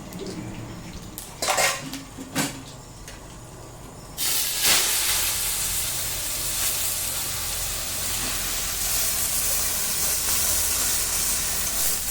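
Seven kinds of mixed leafy greens dropped into a wok over black cumin and dried chillies, setting off a loud, steady hiss of frying that follows a few clinks of utensils against the pan.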